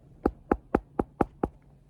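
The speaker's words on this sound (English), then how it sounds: "Knock on wood." Six crisp knocks on wood in an even, quick rhythm, close and distinct, with quiet in between and no talking.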